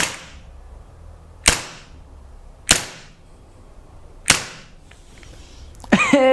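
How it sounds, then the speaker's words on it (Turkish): Four loud, sharp shots from a Glock 19 gas blowback air pistol, evenly spaced about a second and a half apart, each with a quick decaying tail, followed by a short clattering mechanical sound. "Hemen şöyle bir ilk atış yapıyorum"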